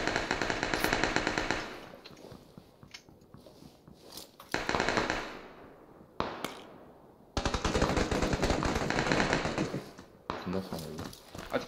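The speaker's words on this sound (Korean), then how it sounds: "위에서 총 쏜다" Rapid bursts of gunfire in a squad battle-royale video game, loud and repeated in several volleys with short gaps between them, while players talk over the shooting.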